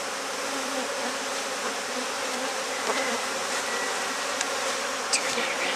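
A swarm of honeybees hums steadily while being moved into a new hive box, a dense, moderately loud buzz with brief, sharper passes of individual bees near the end.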